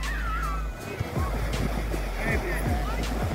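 Ocean waves washing in at a beach, a steady broad roar of surf heard close, with people talking over it throughout.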